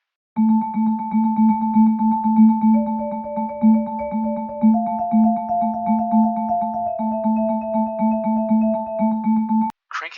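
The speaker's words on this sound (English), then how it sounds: "Now let's turn on arpeggiation." Vibraphone played through a lo-fi blues effect with arpeggiation switched on, sounding a steady low pulsing pattern under held tones that shift pitch partway through, loud and close, ending abruptly.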